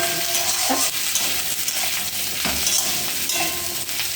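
Onions and green chillies fry in a pan with a steady, loud sizzle, broken by a few soft stirring scrapes and light clinks of a utensil against the metal.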